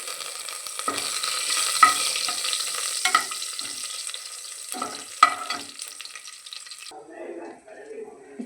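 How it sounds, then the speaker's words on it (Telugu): Curry leaves frying in hot oil for egg biryani, a close, crackling sizzle with repeated bursts of spattering and stirring, dying down to quieter bubbling near the end. "అవన్నీ కొంచెం బ్రౌన్ కలర్లో వచ్చిన తర్వాత మనమైతే కర్రీ లీవ్స్ అంటే కరివేపాకు వేసేసుకోవాలి."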